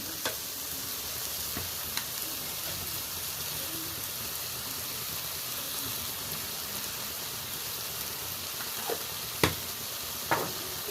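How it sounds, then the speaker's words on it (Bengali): Ingredients for a Bengali-style rohu fish curry with onion stalks and potato being sautéed in a pan, a steady close sizzle with occasional scraping stirs and clinks of a spoon. "আবারও ভালো করে কষিয়ে নেব সব উপকরণগুলো"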